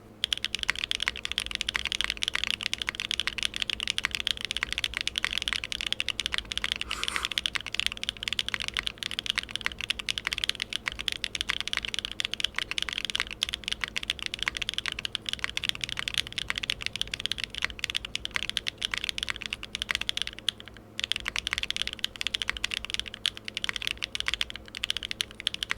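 Steady, close typing on a Capybara R2 keyboard with Invokeys Macho Reserve linear switches on a carbon fiber plate, 90A grommets, no foam and GMK Red Devils keycaps; dense keystrokes run continuously with only a brief pause.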